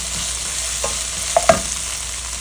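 Ginger garlic paste and mint leaves frying in a pan over medium flame, a steady soft sizzle with a few brief stirring scrapes near the end.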